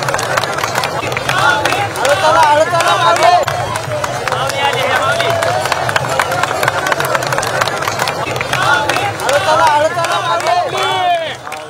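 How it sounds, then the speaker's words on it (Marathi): A crowd of pilgrims at a Pandharpur wari ringan claps to cheer an elderly woman running with a tulsi plant on her head. The clapping is dense and steady, blended with loud crowd hubbub throughout. "लोकांनी टाळ्या वाजवून या आजींना प्रोत्साहन दिलंय"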